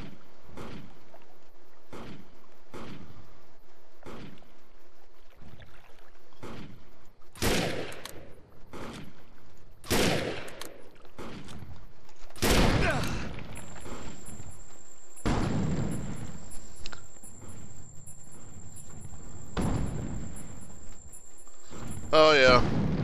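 Repeated gunshots in the video game Defiance, sharp cracks and heavier blasts in irregular bursts, some distant and some close and loud, with a sustained tone running through the latter half.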